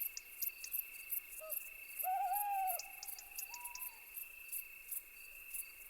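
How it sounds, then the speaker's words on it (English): An eagle owl calls at night in Spain, a few drawn-out hoots standing out against a steady backdrop of chirping crickets and insects, moderately loud in an otherwise quiet nocturnal setting. "The eagle owl is Europe's biggest nocturnal raptor."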